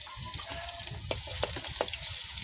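Garlic and cumin seeds frying in oil over a wood-fired stove, a steady close sizzle with a few sharp crackles and faint stirring, no talk.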